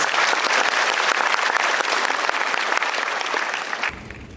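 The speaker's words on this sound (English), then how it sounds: "Please give yourselves a round of applause." Applause from the audience at an oath-taking ceremony for newly registered psychometricians, a dense sustained clapping that fills the room for about four seconds before cutting off abruptly.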